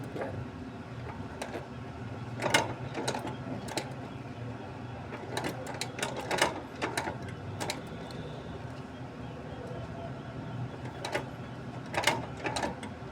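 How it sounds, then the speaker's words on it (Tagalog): A sewing machine stitches the sole of a Converse shoe, giving a low mechanical whir with irregular clusters of ticking clatter, moderately near and fairly quiet, with no talk. "dito ko tinatahi yung mga Converse na dito sa makinang ganito"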